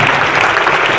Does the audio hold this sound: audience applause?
yes